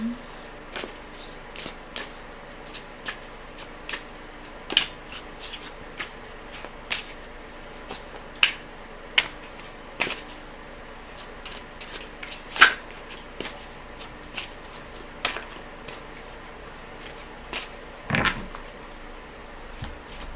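Tarot cards being shuffled close up, with a string of soft, crisp snaps and riffles at irregular intervals over a quiet background, and a voice talking in the gaps.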